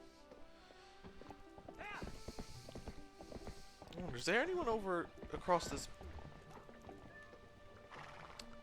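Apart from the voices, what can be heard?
horse hooves clip-clop, Zelda Twilight Princess video game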